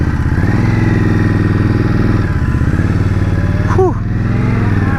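An Indian Scout Bobber motorcycle engine throbs loud and close during a hill start, holding a steady pulsing rumble before briefly dipping near the end.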